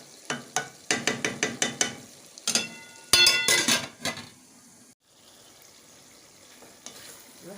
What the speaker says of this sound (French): les oignons sont en train de mijoter